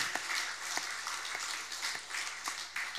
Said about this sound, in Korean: 여러분들의 가장을 위해서 박수를 쳐주지 않겠습니까